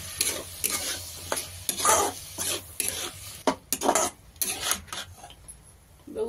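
Bean seeds being stirred into frying banana flower vegetable in a pan, with repeated scraping strokes and a steady sizzle underneath, close and fairly loud, no voices.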